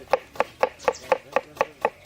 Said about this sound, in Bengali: নিচের দিকে তাকিয়ে কিরকম কুটছি।